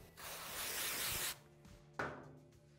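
A rag wipes the tapered shaft of a Polaris ATV drive clutch in two close passes: a long steady rubbing swish, a short pause, then a shorter second stroke.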